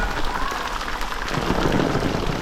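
Heavy monsoon rain pours down on a village during a downpour, a steady, dense hiss of water that stays loud and unbroken throughout, with no voices.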